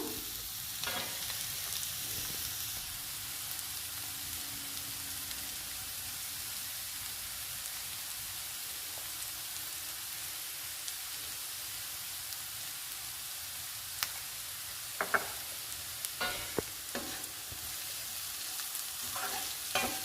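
A curry of onion, egg and meal maker chunks, seasoned with chili powder, fries in a pan with a steady close sizzle, broken by occasional clinks and scrapes as it is stirred.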